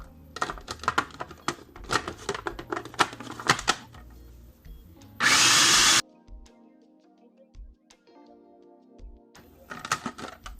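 A blender whirs loudly in one short burst of under a second while it purees garlic into paste. Clattering and tapping from the kitchen come before and after it.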